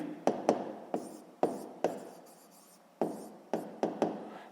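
Chalk writing an answer on a classroom board for a sixth-grade maths exercise, sharp taps and scraping strokes in an uneven rhythm, close and fairly loud in a reverberant room.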